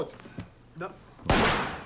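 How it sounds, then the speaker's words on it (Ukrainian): A sudden loud burst of sharp noise, like gunfire impacts, follows a couple of muffled thuds and a brief voice, then trails off. "І тому ти стріляєш у стіну?"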